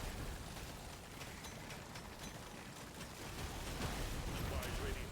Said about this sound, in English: Oh my god, all those explosions.